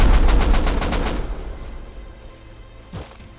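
AK rifle gunfire in the survival game Rust: a loud, rapid automatic burst of about eight evenly spaced shots that fades into a lingering echo, with one more faint report near the end.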